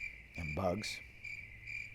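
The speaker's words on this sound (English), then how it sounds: "Now the outside noises, like crickets and bugs," Crickets chirp steadily in the background, a high constant trill with brief pulses, while a voice briefly speaks over it.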